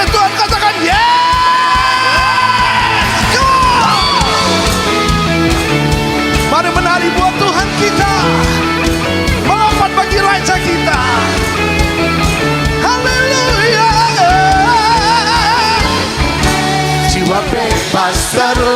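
A church congregation at an Ascension service at GBI Solo Baru cheers and whoops continuously while loud worship music with singing plays throughout.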